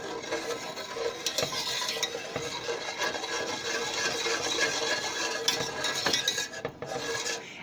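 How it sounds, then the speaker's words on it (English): A rice custard mixture with salt is stirred in a pot, a soft continuous scraping and swishing up close, with a few light clinks of utensil against the pot. "we're going to stir this"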